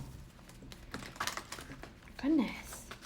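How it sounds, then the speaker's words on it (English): Tarot cards being shuffled by hand in a quiet room, soft papery riffles and taps in quick, uneven bursts, close and faint. "let's shuffle it a different way"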